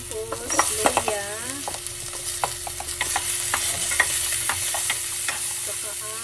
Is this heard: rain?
no